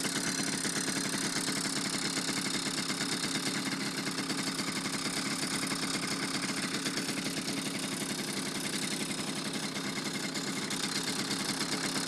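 A Honda Express NC50 moped's small engine runs steadily after being kick-started in 28-degree cold, with a close, even, buzzing idle and no break.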